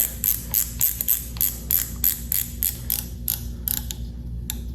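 A cheap motorcycle phone mount clamp is tightened onto handlebars in a home garage, giving a close run of about a dozen quick, sharp ratcheting clicks at an uneven pace.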